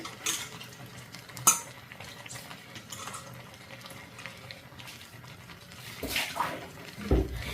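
Sweet pongal with cashews and raisins stirred in a pot, faint scraping and clinking of a spoon against the metal with a few sharper knocks, quiet and close, no talk.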